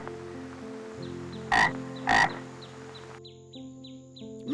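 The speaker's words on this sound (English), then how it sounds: "It's a frog." A frog croaking loudly twice in quick succession, close and clear, against a background of steady chirping calls.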